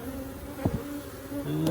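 Bees buzz steadily at close range while a hive holding seven and a half frames is opened for inspection. A continuous drone runs throughout, with a couple of brief knocks partway through.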